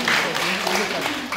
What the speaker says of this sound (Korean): 큰 박수 한번 보내주시면 감사하겠습니다